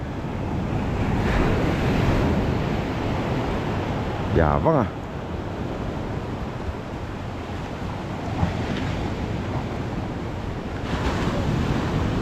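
Big ocean waves at sea off Sabang, Baler, Aurora, a steady loud roar of surf and wind noise across the whole stretch, with a boat engine whine rising briefly and people speaking now and then.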